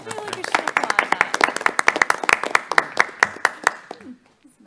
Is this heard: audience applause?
yes